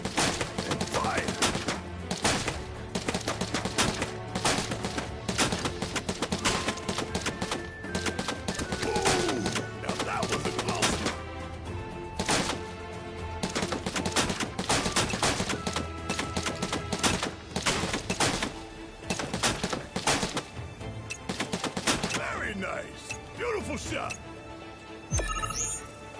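Bursts of gunfire from Final Fantasy 7 Rebirth crackle repeatedly in sharp, dense volleys over game music and effects, loud and sustained throughout with a voice speaking at times.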